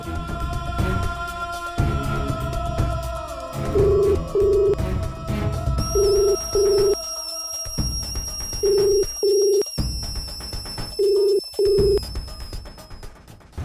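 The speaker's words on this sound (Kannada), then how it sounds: "ಫೋನ್ ರಿಂಗ್ ಆಗ್ತಿದೆ, ಆದರೆ ಅವ್ರು ರಿಸೀವ್ ಮಾಡ್ತಿಲ್ಲ." A phone rings on an unanswered call in a Kannada TV serial scene: repeated paired electronic ring tones, loud and regular, over background music.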